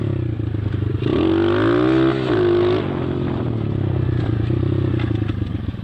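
A 2008 YCF R-Star 125 pit bike engine runs close by, a loud, buzzing idle that climbs into a brief rev before settling back to a rough, steady drone.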